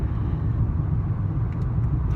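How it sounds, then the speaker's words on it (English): Steady low car rumble from inside a vehicle driving through a mountain canyon, a continuous engine drone with road noise and no one speaking. "My car is making a noise."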